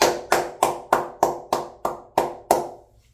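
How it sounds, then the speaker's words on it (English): A single person claps alone, nine loud, close, evenly spaced claps with a little room echo after each, then quiet. "Rounds of applause from me."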